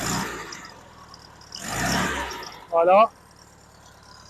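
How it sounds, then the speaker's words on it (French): A 1972 Volkswagen Beetle 1200cc engine idles steadily with the choke off, a low continuous rumble under a man's speech, with a brief louder burst near the end. "le moteur qui tourne normal, sans starter, sans rien"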